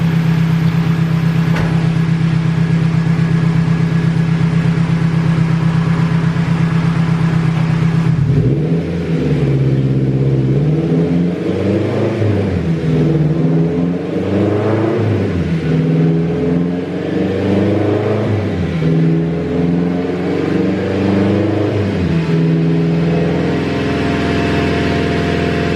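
Turbocharged K24-swapped Honda Integra engine on test: a steady loud idle drone gives way to a series of sharp rev sweeps rising and falling in rhythmic bursts, close and loud with no talking.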